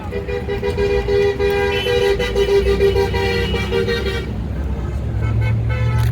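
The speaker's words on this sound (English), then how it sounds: "I'll wait for the car horns to go by." Car horns honk in sustained, overlapping toots alongside passing traffic at a street protest, loud and close, with a low rumble of vehicles underneath.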